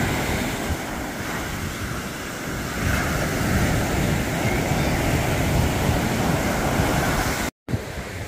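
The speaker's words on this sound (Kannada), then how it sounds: "ಕೋಡಿ ಬೆಂಗ್ರೆ ಕಡಲ ತೀರ" Ocean surf rolls steadily onto Kodi Bengre beach near the Suvarna river mouth in Udupi, a continuous broadband wash of breaking waves with some wind rumble on the microphone and a brief dropout near the end.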